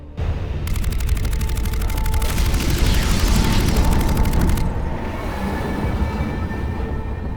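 Cannon fire in a space-fleet video game: a loud, continuous barrage of booming blasts and rumbling explosions lasts about seven seconds, with no voices over it.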